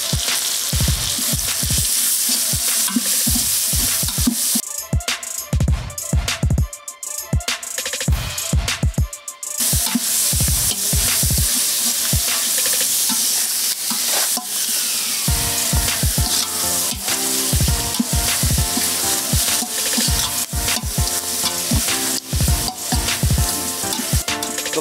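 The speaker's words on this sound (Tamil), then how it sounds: "இதை நல்லா மிக்ஸ் பண்ணி அதை வதங்க விடணும்." Loud continuous sizzling and frying as onion, chilli, tomato, mint and coriander are stirred and sautéed in a pan for Jaffna-style mutton biryani, with repeated scraping stir strokes throughout.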